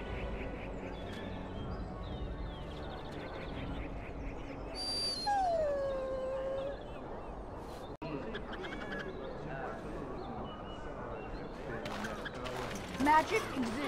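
A puppy whimpers and yelps in the Dragon Age video game, a short rising-falling whine in the middle over steady game background sound and talk.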